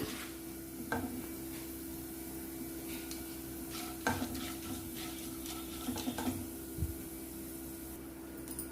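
Chana dal and spices frying and being stirred in a pan while cooking tindora (dondakaya) curry: a steady low sizzle with occasional scraping and clinking of a spoon against the pan, close and alone.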